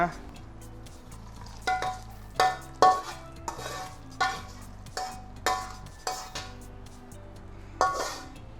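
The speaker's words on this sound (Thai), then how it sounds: "เอาให้มันแค่แบบพอสีเหลืองอ่อนๆพอนะครับ ไม่ต้องสีเหลืองเข้มนะ เพราะว่าเดี๋ยวกระเทียมของเราจะไหม้นะครับ" Garlic sizzles in oil in a pan, cooking toward a pale yellow for a Thai pork noodle soup, while a utensil scrapes and clinks against the pan in repeated stirring strokes. The sounds are close and moderately loud, with no talk.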